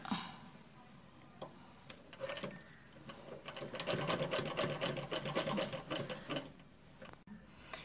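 A sewing machine stitches a cloth bag, its needle running in a steady fast mechanical chatter that builds to a dense burst of stitching before stopping, close and clear with no talk.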